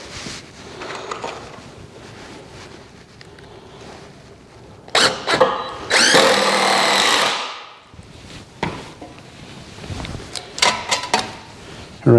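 Power drill driving screws through wooden wall panels on an 8x8 deer stand build, one long loud whirring burst in the middle and shorter bursts around it, over workshop knocks and handling noise.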